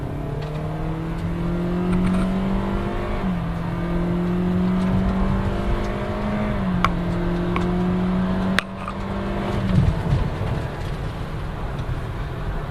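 A 2014 Toyota Corolla accelerates hard in a 0-60 mph run, its engine note climbing steadily through several gear shifts with brief dips between, loud and close from inside, with a few small clicks and no talking.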